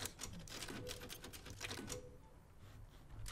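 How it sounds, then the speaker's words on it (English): Typewriter save sound from the video game Resident Evil Village, a quick run of mechanical key clacks with a carriage ding, quiet and alone without talk. "Typewriter is to save."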